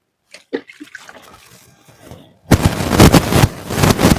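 Liquid fertilizer poured onto a garden plant: a few faint clicks and rustles, then a loud, steady splashing gush of liquid that continues to the end.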